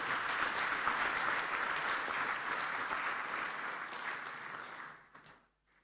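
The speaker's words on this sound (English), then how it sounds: "Please, let's give them an applause." Sustained audience applause at an African inter-parliamentary conference, a steady dense clapping that holds for several seconds, then tapers off and fades near the end.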